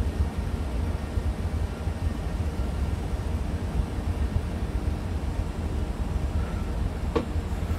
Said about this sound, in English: Gatwick train going in.